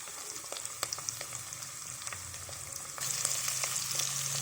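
Paneer pieces sizzle and fry in a pan with curry leaves, a steady close crackle with scattered pops that grows louder and denser partway through.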